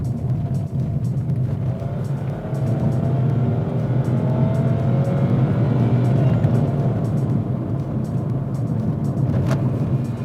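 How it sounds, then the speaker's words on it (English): A Nissan Magnite's engine drones steadily from inside the cabin as the car accelerates quickly, a loud, sustained low hum of revving with little variation. "the engine is revving a little too much at times when you especially push down and want to accelerate quickly"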